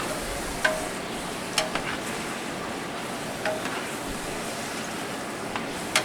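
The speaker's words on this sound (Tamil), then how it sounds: "நல்லா வதக்கிற வரைக்கும் நம்ம கிண்டி விட்டுக்கிட்டே இருக்கணும்" A big pot of egg biryani base for 150 children stirred and sautéed, with a steady low sizzle and occasional soft scraping knocks from the ladle.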